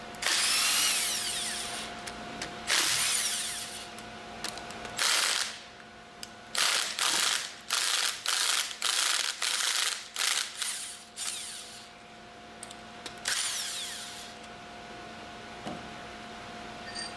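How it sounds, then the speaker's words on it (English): An impact wrench loosens the manifold bolts on a pump's packing stack. Long loud rattling bursts come first, then a rapid series of short hammering pulses, then a few more bursts, all close and prominent. "Use the impact wrench to loosen the remaining bolts in the order demonstrated."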